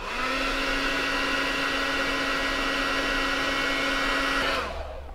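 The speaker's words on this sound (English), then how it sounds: "So the best way to do this is just with a standard heat gun" A cheap standard heat gun runs steadily with a loud, even blowing whir and a high motor whine for about four and a half seconds, then cuts off abruptly, warming a piece of PVC held against wood.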